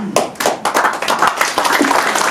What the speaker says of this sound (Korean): 박수를 부탁합니다